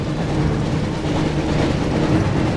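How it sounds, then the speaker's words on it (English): A train rumbles past in the Harry Potter and the Chamber of Secrets PS1 video game, a loud, continuous low rolling roar with steady rail rumble and no pauses. "Looks like we found the train, Ron."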